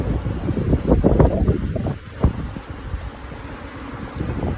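Wind buffets a microphone outdoors during a summer beehive brood inspection in South Africa, giving loud rumbling gusts that ease after a few seconds into a softer steady rush.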